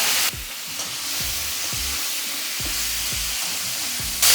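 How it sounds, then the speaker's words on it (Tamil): Seeds crackle and sputter in hot oil with a steady sizzle, punctuated by rhythmic popping and scraping, close and fairly loud. "கடுகு நல்லா பொரிஞ்சிருச்சுங்க. தக்காளி சேர்த்துக்கலாம்."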